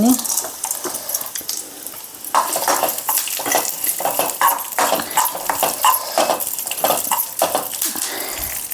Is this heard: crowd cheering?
no